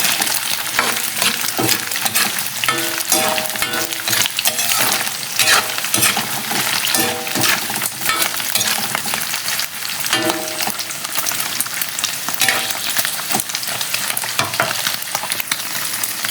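Pork frying in its own rendering fat for a shrimp paste dish: a loud, continuous crackling sizzle heard close up, with occasional light clinks of a utensil stirring the pan.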